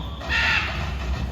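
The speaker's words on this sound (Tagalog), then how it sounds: "these birds are also known as the gentle giants of the parrot family" A large parrot at a bird show gives one harsh, raspy squawk lasting about a second, loud and close.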